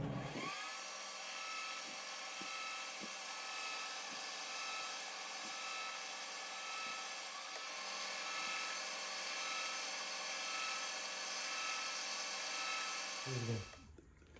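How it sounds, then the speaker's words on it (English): A metal lathe cuts steel under power feed, giving a steady high-pitched whine with a faint rhythmic ticking underneath that runs evenly throughout and then cuts out near the end. "I like to use the power feed, so it's going to make a little noise here."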